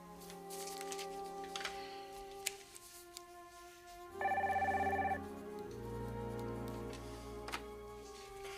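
A telephone rings in an office, a short bright electronic trill that sounds once in a burst of a second or so amid quiet room tone, with no talking.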